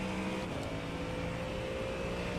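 A race car engine in the iRacing sim at Oulton Park holds a steady, fairly loud drone with a constant pitch throughout, with no talking.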